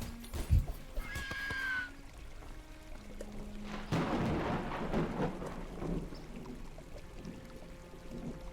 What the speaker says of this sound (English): there's apparently a storm, but no rain.